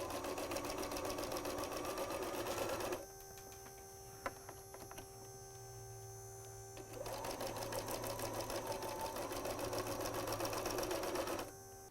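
A sewing machine stitching a fabric apron bib runs in two steady, close, whirring stretches, stopping briefly in the middle with a faint hum and small clicks before starting again.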